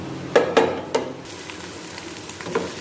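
Ginger garlic paste fries in hot oil with a soft steady sizzle, broken by a few sharp clinks and scrapes of a spoon stirring the pan near the start.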